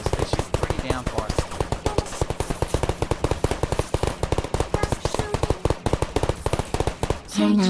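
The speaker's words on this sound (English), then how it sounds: "these little sentry guys can shoot about anything" Sentry turrets in the Minecraft Portal Gun mod fire rapid, dense bursts of shots, loud and continuous with a steady machine-gun rhythm.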